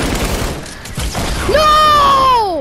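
An RPG rocket fired in Fortnite, a sharp launch blast followed by a rising whoosh that settles into a sustained tonal whine, loud and close amid game noise.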